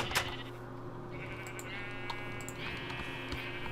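Sheep bleat repeatedly in Minecraft, several wavering calls over a steady low game hum and faint clicking, with no talking.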